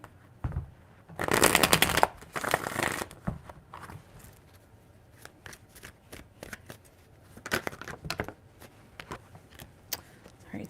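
Tarot cards being shuffled by hand, with two long riffling bursts followed by a string of quick softer card snaps and taps, close and alone.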